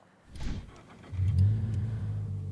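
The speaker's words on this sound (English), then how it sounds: "Ooh, the Boxer 4 comes to life. A lot more aggressive with that exhaust." A Toyota GR86 boxer-four with an MXP Comp RS cat-back exhaust cranks and fires up, then settles into a deep, throaty idle rumble, close and fairly loud with no talk.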